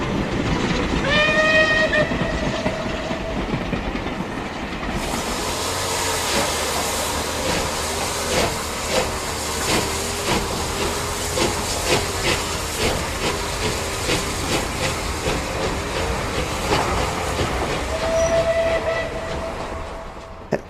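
Southern Railway steam locomotive Eddystone, a rebuilt West Country class engine, runs close by with loud hissing steam, a steady rhythmic chuff and rolling rail clatter, and short whistle blasts near the start and end.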